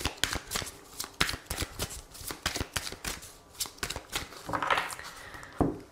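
Oracle cards being shuffled and cut for a love-themed reading, a quick run of crisp papery riffles and taps repeating near and clear with no talk, ending in a slightly broader swish and a final snap.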